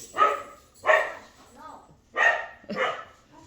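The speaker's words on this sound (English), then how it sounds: "this dog barks a lot" A dog barks four times in an irregular sequence at moderate volume indoors, with a soft whimper or yip between the barks and no other sounds.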